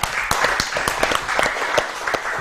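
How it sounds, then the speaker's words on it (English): An audience claps for two children, Aiza and Asa, at a Ramadan pre-dawn gathering, a steady patter of many hands for a couple of seconds at close range with no talk over it. "Give a clap to Aiza and Asa."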